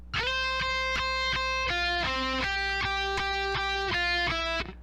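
Distorted electric guitar plays a solo section, a fast run of sustained, harmonically rich notes with steady rhythmic changes, loud and alone with no voices.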